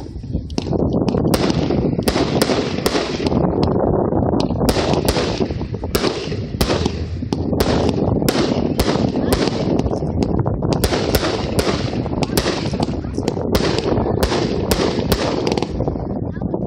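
A 500 gram Rave Party fireworks cake from Alien Fireworks fires a long rapid sequence of loud sharp shots and crackling bursts, steady and dense throughout, with occasional voices in the background.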